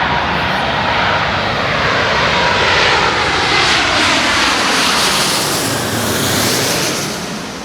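Passenger jet landing at London Heathrow Airport, a loud sustained engine roar that swells as it passes close overhead and then fades away, alone with no talk.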